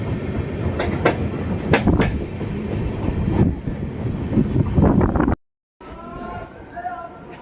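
The Puri-Dhauli Superfast Express pulls into Jaleswar station in Odisha with a loud, close rumble and rhythmic clickety-clack of wheels. It cuts abruptly to quieter platform ambience with a faint tonal sound.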